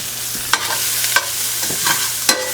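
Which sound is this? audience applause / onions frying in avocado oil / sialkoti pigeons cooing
onions frying in avocado oil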